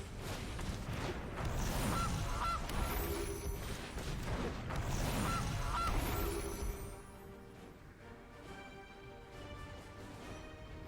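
Honking goose calls from the Gilded Goose card in Magic: The Gathering Arena sound twice over a loud, dense game music bed, after which the music drops to a quieter backdrop.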